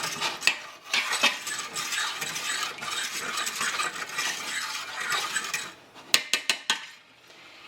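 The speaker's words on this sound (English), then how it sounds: "I'm going to scrape all those drippings off the bottom here." A utensil scrapes chicken drippings off the bottom of a metal roasting pan half filled with water, with repeated close metallic grating strokes and a few sharp clinks near the end.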